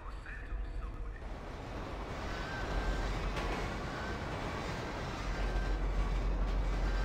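A steady rumbling cargo train sound in a video game rolls on, building slightly in loudness, with a faint high whine over the low roar.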